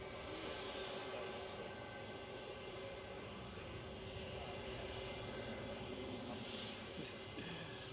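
A British Airways Airbus A319 at Manchester Airport gives a steady, broad engine roar that stays fairly faint and even throughout, with no talking.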